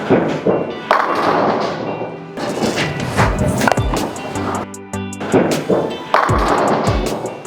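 A bowling ball rolling down a lane on a house shot, a continuous rumbling roll punctuated by hard clattering thuds and knocks of pins being struck, loud and close.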